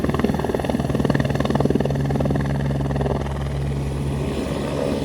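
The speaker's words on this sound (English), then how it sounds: "I have never seen a helicopter land close up before." An Airbus helicopter landing close by, its loud rotor chop and engine whine holding steady and near, with no talk over it.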